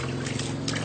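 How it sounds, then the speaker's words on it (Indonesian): Mixed probiotic liquid splashes steadily onto fermented animal feed, a brief continuous pour with a soft watery wash. "kita siram seperti ini"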